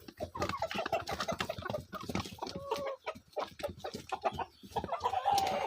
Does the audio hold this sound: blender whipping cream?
no